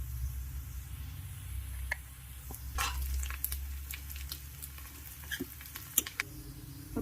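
Sliced onions frying in a pan with oil, a faint low sizzle under scattered crackles, taps and stirring scrapes, quiet and close.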